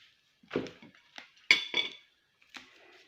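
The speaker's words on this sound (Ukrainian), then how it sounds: "Я яйця зб'ю ось так і відложу в сторону" Fork beating eggs in a bowl, heard as a few quick clinking scrapes in uneven bursts, soft and close, with quiet gaps between them.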